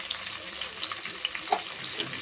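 Onion, green chilies and tomatoes fry in a pan with salt while being stirred back and forth, giving a soft steady sizzle with light scraping clicks from the spoon, close and fairly quiet.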